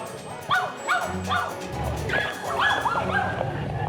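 Several dogs bark and yip in a run of sharp, close barks, with whimpering mixed in, at a veterans' service-dog training session.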